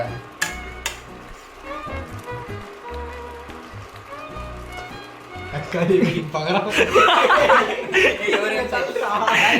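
Onions and tomatoes dropped into a hot frying pan during a night-time cooking session at home: utensil clatter and stirring give way to a swelling sizzle, under laughter and chatter.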